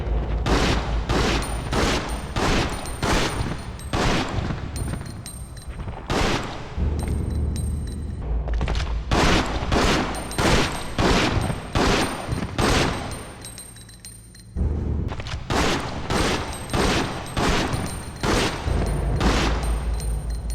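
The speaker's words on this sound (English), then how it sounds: "Now to do some proper tests with Mark's handgun." Mark's handgun fires repeatedly in Resident Evil Outbreak File 2, loud sharp shots in rapid, evenly spaced volleys with brief gaps between the strings of fire.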